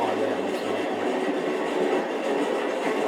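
Steady rumbling train noise in the video game Red Dead Redemption, with a rhythmic clatter, continuous and fairly loud, with faint talk mixed in.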